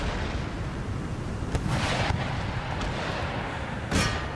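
Cannons fire in the Empire: Total War video game, with dull booming blasts spaced irregularly over a dense, continuous roar of battle noise.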